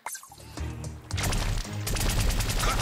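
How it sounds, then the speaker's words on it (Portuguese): Rapid continuous shooting attack in a Skylanders video game, a dense, loud stream of bursting shots that builds and stays sustained through the end with no voice over it. "Você fica atirando assim, tipo, infinito, galera."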